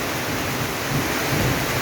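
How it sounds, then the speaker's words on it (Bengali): Steady heavy rain pours down in a village in Bangladesh, with low rolling rumbles of thunder swelling underneath the dense, continuous hiss of the downpour. "বাড়িতে এসে বৃষ্টির কারণে আটকে পড়ে গেছি"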